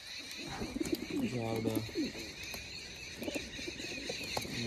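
Pigeons coo in low, rounded repeated calls at a rooftop water spot in Gujarat, fairly close, with other bird chirps and someone talking over them throughout.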